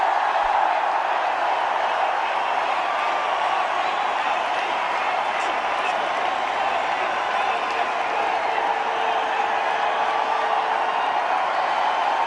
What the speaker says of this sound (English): he gets an enormous round of applause from players and fans alike